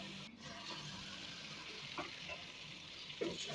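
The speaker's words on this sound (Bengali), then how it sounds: "মশলা দেওয়া হয়ে গেলে আমি ভালোভাবে কষিয়ে নিচ্ছি।" Spices such as garlic, cumin and turmeric pastes with chili powder and green chilies frying in a pan, a quiet steady sizzle with a few faint stirring clinks.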